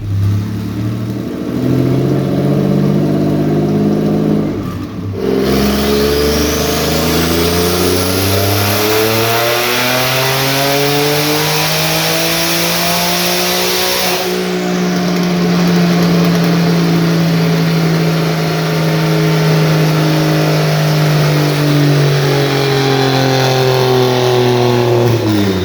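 A boosted 3.7L V6 in an S550 Mustang revs on a dyno, the loud engine note climbing steadily, dropping off, then rising again in long sustained pulls with no talk.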